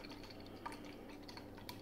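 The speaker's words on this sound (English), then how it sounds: "It's pouring quite nice and clear" Homebrewed beer poured from a bottle into a glass, a faint, close liquid trickle with small drips and splashes, steady and quiet throughout.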